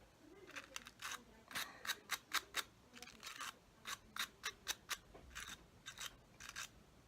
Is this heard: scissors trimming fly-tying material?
yes